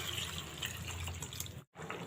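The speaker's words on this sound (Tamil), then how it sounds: "2 டம்ளர் அரிசிக்கு 4 டம்ளர் தண்ணி ஊற்றிடலாம்." Water pours onto soaked basmati rice in a cooking pot, a steady close gush with slight dripping and bubbling, running continuously before a brief cut of silence near the end.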